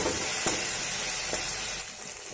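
A pan of fish curry sizzles and fries loudly up close while meat masala is stirred in, with a couple of soft scraping strokes through the steady hiss, which drops quieter near the end.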